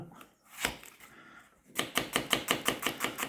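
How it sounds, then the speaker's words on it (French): Rapid, rhythmic knife chops slicing onions on a cutting board, about a dozen crisp even strikes in a quick burst, close and clear, after a few slower cuts. "Alors, je ne vous demande pas d'émincer si vite."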